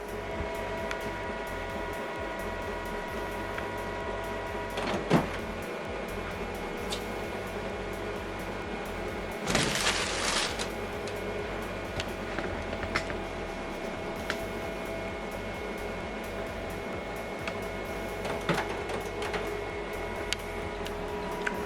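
An HP printer runs its color calibration with a steady mechanical whir and hum, near and fairly quiet, broken by a short louder rush of motion partway through and a few faint clicks.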